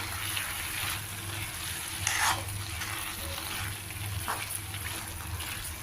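Cabbage curry with turmeric and chili powder frying in a pan, a continuous close sizzle with soft stirring scrapes and a couple of brief louder clatters, no talking.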